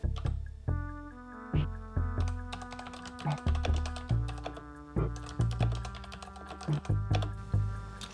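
Keys clacking on a retro writing computer keyboard, a steady run of close, crisp keystrokes with uneven rhythm and occasional heavier thunks.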